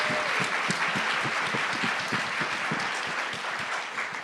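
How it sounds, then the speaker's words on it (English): Dense, steady applause from a live audience at a women's podcast event, many hands clapping together into a continuous wash of sound that holds at an even, loud level throughout. "Can we all give a round of applause for UCAN?"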